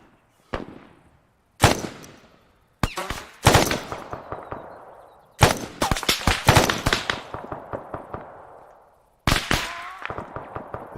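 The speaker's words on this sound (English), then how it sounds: "Someone's shooting from the downstairs window." Gunfire in the military video game Arma 3, with sharp, loud shots in separate groups, some single and some rapid automatic bursts, each followed by echoing decay and pauses between.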